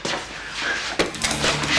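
Gunfire rings out in a film scene, a roar of shots followed by a burst of rapid cracks after a short lull, loud and dense with no voices.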